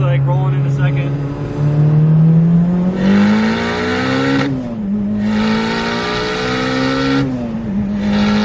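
A Mitsubishi Evo VIII making roughly 500 to 600 horsepower pulls hard on a ride, its engine note loud and close, climbing steadily through the gears with brief dips at each shift.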